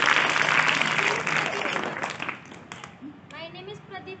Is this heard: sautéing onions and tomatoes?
no